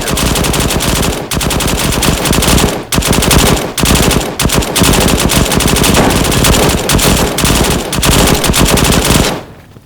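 Submachine gun fire in the World War II shooter game Warfare 1944, loud, sustained rapid bursts that barely pause for almost ten seconds before cutting off abruptly.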